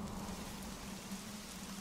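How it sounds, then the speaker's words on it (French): Steady, even rain shower hiss in a French-dubbed My Little Pony cartoon, continuous and moderately quiet throughout with no voices. "Oh, il pleut beaucoup trop!"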